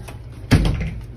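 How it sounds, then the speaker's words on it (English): A hospital room door swings shut with a single close, sharp thud at mid-clip, ringing briefly before fading into low room ambience; no one speaks over it. "Close the door."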